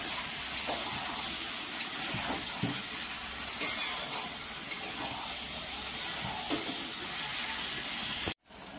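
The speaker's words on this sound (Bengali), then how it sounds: "এটা সব একসঙ্গে পেস্ট করা হয়েছে, এটাকে দিয়ে দিলাম। এটা একটা সবজি দিয়ে ঝোল মাছের, মশলাটাকে দিয়ে একটু কষিয়ে নেব।" Spice paste for a Bengali fish curry with ridge gourd and potato fries in a pan, a continuous close sizzle with scattered spoon scrapes as it is stirred, ending in a sudden brief cut before the hiss resumes.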